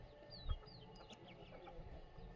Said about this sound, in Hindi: देखो कितनी मजबूत मुर्गियाँ हैं